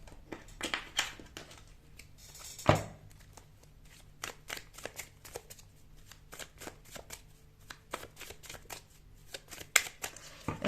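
Tarot cards are shuffled close by in a quiet room, a rapid run of soft riffling slaps and flicks in uneven bursts, with a sharper snap partway through.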